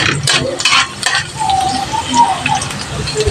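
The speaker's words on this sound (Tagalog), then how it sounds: "Gisa lang po natin to." Food sautéing in a hot frying pan, a close, steady sizzle with stirring scrapes and a few clinks of utensil against metal. Faint tones sound alongside it.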